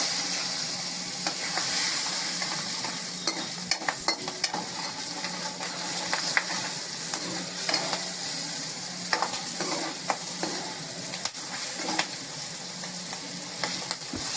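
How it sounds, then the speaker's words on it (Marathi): Garlic and green chillies fry in hot oil for a tempering, giving a constant close sizzle with frequent small crackles and pops throughout, no talking. "आपण कडल्यामध्ये जी फोडणी केली ह्याच्यात आधी पहिली लसूण घातली ती आता जरा अर्धी लाल झाली"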